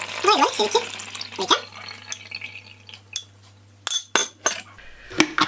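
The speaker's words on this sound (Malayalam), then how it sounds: "ഈ ഒരു വെള്ളം ഒഴിക്കാൻ പോവുകയാണ് ഇതിലേക്ക്" Water is poured into a container while preparing a home mixture against lizards, cockroaches and flies. Close glassy clinks and splashy pouring bursts arrive in short separate spurts between quieter pauses.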